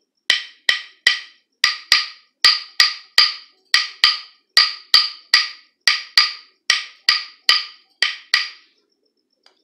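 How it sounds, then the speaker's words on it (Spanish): Sharp wooden clicks of claves play a repeating syncopated candombe clave pattern, crisp and close, about two dozen strikes in a steady groove with no voices. "vamos a buscar nuestras claves y vamos a aprender la clave de candombe"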